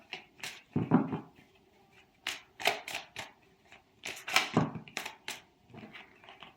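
Tarot cards being shuffled by hand, a series of crisp riffling bursts and soft slaps with brief pauses between, close and fairly quiet, ending as cards spill out of the deck.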